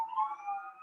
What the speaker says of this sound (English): It's been siren crazy today.